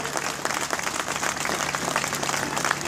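A crowd applauding at the start of a charity motorcycle trip, continuous dense clapping close by, loud and even throughout.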